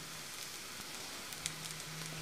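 Cabbage sizzling in a pan with carrots that are already softened and lightly browned, giving a quiet, steady frying hiss with a few faint crackles and no talking.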